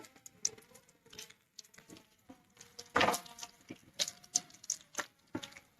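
Battered onion greens fritters dropped into hot oil for deep frying, giving close irregular crackling pops and spitting bursts over a quiet bubbling bed, with one louder splash midway.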